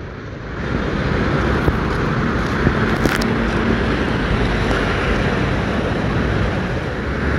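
Typhoon Crising drives a swollen, fast river in Marikina, heard as a loud, continuous rushing roar with wind buffeting the microphone and no break in the flow.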